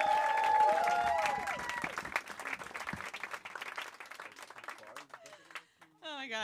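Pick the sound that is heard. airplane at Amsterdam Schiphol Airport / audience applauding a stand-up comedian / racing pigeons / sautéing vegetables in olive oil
audience applauding a stand-up comedian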